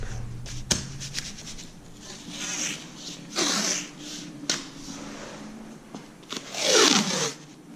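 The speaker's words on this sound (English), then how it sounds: "I use this masking tape." Masking tape tears off the roll in several short, raspy strips during laminate stair installation, close by and fairly quiet, separated by brief pauses and light handling noises.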